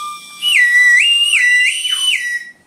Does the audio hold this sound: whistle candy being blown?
yes